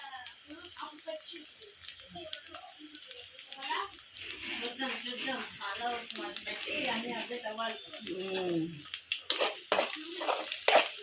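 Curry sizzles and fries in a pan while a spoon stirs and scrapes through it, a close, crackling hiss rising and falling under someone speaking.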